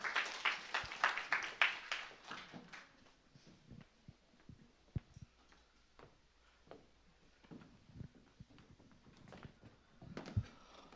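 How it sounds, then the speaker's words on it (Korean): Church gathering at an evangelism camp: a short burst of audience clapping at the start fades into scattered, faint claps and small room noises. "예, 박수 하겠습니다."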